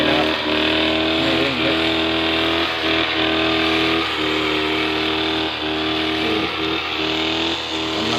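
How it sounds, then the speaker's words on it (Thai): A grass cutter's engine revs steadily in a durian orchard, with a loud, close, continuous drone that surges and dips in a regular rhythm. "เร่งเครื่องเบาๆ"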